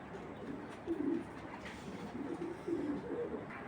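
A female pigeon gives two soft, low coos, a second apart, faint against a steady background hiss.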